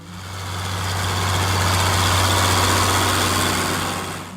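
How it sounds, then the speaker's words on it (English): John Deere 4020 diesel tractor idling, a steady low, even rumble that holds close and constant with no voices. "There was nothing quite like the sound of a 4020 coming to life at daybreak, that mellow diesel rumble"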